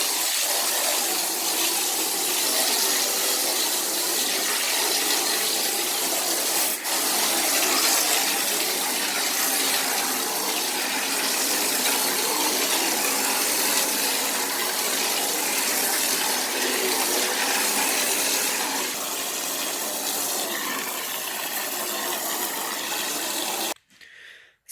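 Hot water from a hose gushes steadily into a bulk milk tank on a dairy farm, a loud, close, continuous splashing rush that runs unbroken until it cuts off abruptly near the end.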